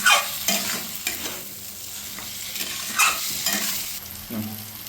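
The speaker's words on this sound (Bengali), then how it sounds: "ব্রকলি এবং আলুগুলোকে দু থেকে তিন মিনিটের মতো কষতে নিয়ে ওর মধ্যে জল দিয়ে দেবো" Broccoli and potato pieces are sautéed in a pan, with a spoon stirring and tossing them in several distinct bursts over a soft background sizzle, close and clear, with no talking.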